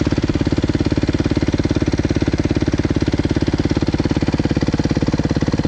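Close, loud motorcycle engine fitted with an FMF exhaust runs at a steady idle, firing in a fast, even pulsing rhythm throughout with no speech.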